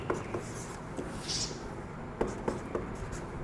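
Chalk or marker taps and scratches across a board during a Class 12 physics lesson on optics, with short, crisp strokes in uneven bursts over a room hum and some faint talk.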